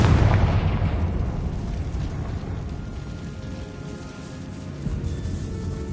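One Confringo spell explosion in the Hogwarts Legacy catacombs, a loud close blast that opens sharply and then fades into a long rumbling decay.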